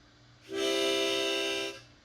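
A single sustained harmonica chord blown on holes 1, 2 and 3 for about a second, steady and clear, with a soft start and release.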